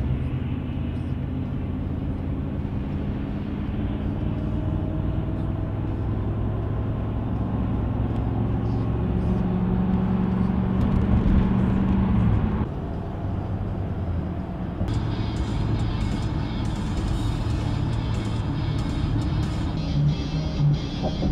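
A truck's engine and exhaust give a continuous low rumble while cruising on a highway, heard from inside the cab with steady road noise and a brief shift in tone partway through.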